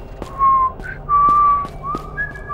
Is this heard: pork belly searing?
no